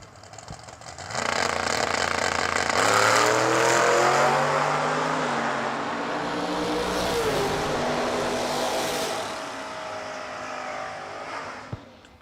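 A 1978 Camaro and another car launch off the line at a New Year Nationals drag race, their engines surging into a loud, shifting roar that stays strong for several seconds, then eases off and fades.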